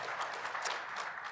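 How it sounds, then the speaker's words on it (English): Applause from a studio audience on a current-affairs panel discussion, a steady, faint wash of clapping that holds evenly for a brief moment with no voices over it. "sure, applause."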